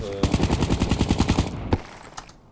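Rapid automatic gunfire rattles in an esports video game match, a dense burst of shots followed by a few single cracks, loud and close.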